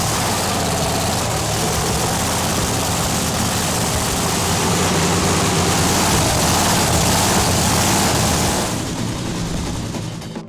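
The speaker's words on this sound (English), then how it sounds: "time to warm up the engine as well for the West 10 team" A drag racing funny car engine warms up at the European Finals, a loud heavy continuous roar with dense low rumble, steady throughout and cutting off near the end.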